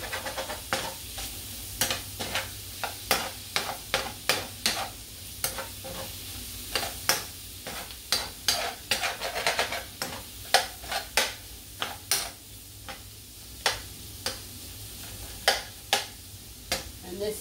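A spoon clicks and scrapes repeatedly against a pan while stirring shrimp, sausage and garlic over medium heat, sharp irregular taps over a soft steady sizzle, close and clear.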